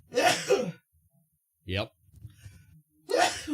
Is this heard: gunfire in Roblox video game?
no